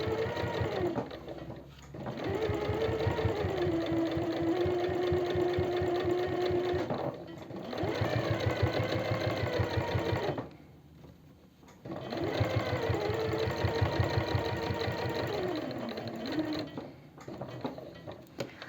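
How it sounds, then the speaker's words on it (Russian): Sewing machine running stitches along the edge of men's jeans fabric, a close, steady rapid whir in three long bursts separated by brief pauses. "А затем я разворачиваюсь и даю по краю строчку"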